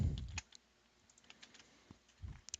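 Keystrokes on a computer keyboard: a few sharp clicks at the start, then scattered light taps, and a short closing burst, all soft and close in an otherwise quiet room.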